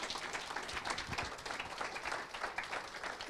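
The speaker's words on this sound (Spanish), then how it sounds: "Un aplauso," Faint, steady applause from a church congregation rolls on for a few seconds as a dense wash of clapping, distant and without talk over it.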